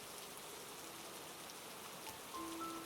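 Rain falling at night on a house, a soft, even patter that stays steady and fairly faint throughout the short stretch.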